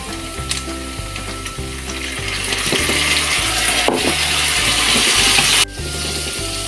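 Palabok ingredients sauté in a pan with a loud, steady sizzle and frying crackle, interrupted by stirring scrapes. A low, rhythmic repeating hum runs underneath. No voices are heard.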